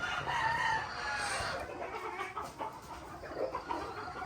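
A Gilliam Roundhead bull stag rooster crows once at moderate distance, a strained rising call followed by quieter farmyard background noise.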